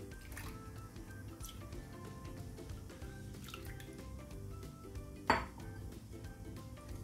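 Egg and milk batter for a pizza pan cake is stirred in a bowl, giving soft wet squishing and light clinks of a utensil against the dish, with one sharper knock near the end, close and fairly quiet.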